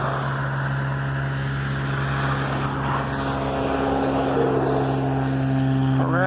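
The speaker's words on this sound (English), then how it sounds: "There's a plane taking off." A plane takes off, giving a steady, droning engine hum with a sustained low tone that swells slightly toward the end, heard from some distance and without talk.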